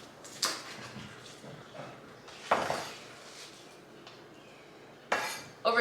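A knife chops fresh homegrown bok choy on a board, giving a few sparse, sharp, close knocks spaced seconds apart, with quiet kitchen background between them.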